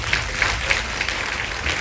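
A church congregation breaks into applause, a steady even wash of clapping from many hands throughout with no distinct voices standing out.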